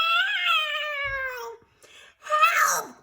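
Ornery cats let out a long, drawn-out caterwauling meow, fall briefly silent, then give a harsher, rising yowl, loud and close.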